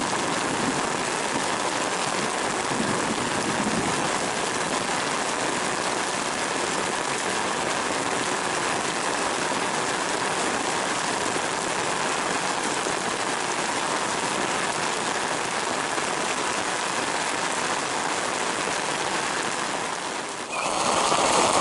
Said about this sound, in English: Nevertheless, we have rain.